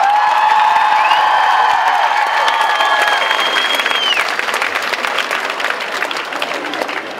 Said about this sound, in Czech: Zkuste jim dělat velký potlesk.